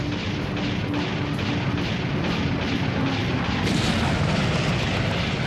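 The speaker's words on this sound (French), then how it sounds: "Les 4 canons de 28 mm ouvrent le feu." Four 28 mm naval guns on an old warship fire in a dense, continuous roar of booms and blasts, loud and unbroken throughout.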